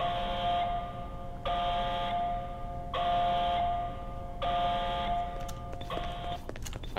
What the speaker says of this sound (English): What's with the alarm?